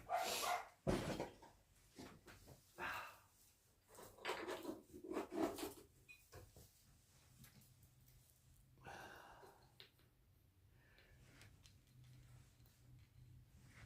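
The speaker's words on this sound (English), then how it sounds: "My dog's outside barking because they've been out for 5 minutes and they think they need to come in" A dog barks outdoors in a few loud, sharp bursts near the start, followed by quieter scattered yaps and household knocks over a low steady hum.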